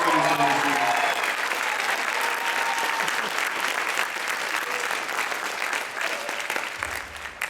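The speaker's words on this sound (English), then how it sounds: "let's give Hunter a round of applause for what he's done this year." Sustained audience applause at a spring 2015 show, dense and steady clapping from a crowd that stays loud for the whole stretch before easing slightly near the end.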